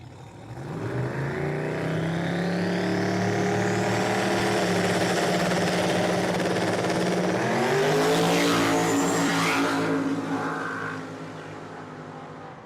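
Drag racing cars launching and accelerating down the strip at Cordova Dragway, a loud sustained engine roar climbing in pitch for about ten seconds before fading as the cars pull away.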